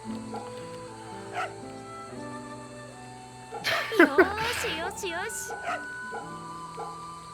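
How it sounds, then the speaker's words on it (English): A dog in the video game Fate/Samurai Remnant gives a short cluster of high yips and whimpers midway through, heard clearly over steady in-game background music. "This is a really cute dog, actually. Look at this dog."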